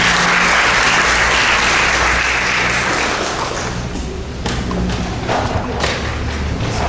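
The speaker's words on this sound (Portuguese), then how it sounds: "Palmas para eles" Sustained applause from a church congregation, steady clapping that thins out midway, with a few sharper claps near the end.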